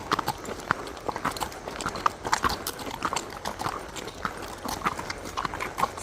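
Horse hooves clip-clopping at a steady walk along a trail through a busy campground, the horse ridden bridleless; the hoofbeats come close and fairly loud in an uneven rhythm over light background noise.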